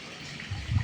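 Water pours into a tank with a steady splashing gush that swells louder near the end, heard close up with no voices.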